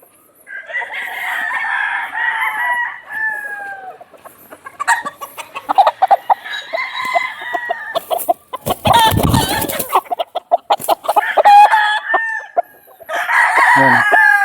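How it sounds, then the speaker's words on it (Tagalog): Verdugo Blue Face Hatch roosters crow repeatedly in a breeding pen on a mountain farm, several loud nearby calls following one another with clucking and brief rustling bursts between them. "Ito yung mga Verdugo Blue Face Hatch na sasalang natin."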